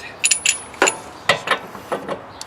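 A 1 1/16 socket on an extension tightens a fitting on an RV hot water tank, giving about nine crisp, close ratchet clicks in an uneven rhythm.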